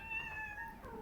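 A kitten lets out one short, high, clear meow close by, alone over a quiet background.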